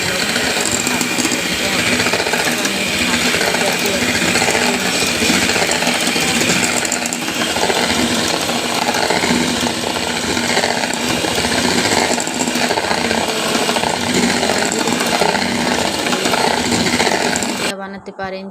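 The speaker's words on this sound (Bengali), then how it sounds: "এখন ভালো মতন এটাকে আমি মিক্স করে নেব।" An electric hand mixer whirs steadily and loudly, blending egg yolk with salt and sugar for homemade butter buns and bread, running continuously before cutting off at the end.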